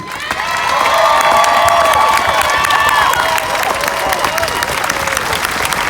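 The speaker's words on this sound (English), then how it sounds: "Now clap your hands together for this unity." A crowd at a George Floyd demonstration in Winston-Salem claps together, a loud steady roar of hands mixed with cheers and shouts, while a voice carries over the top at the start.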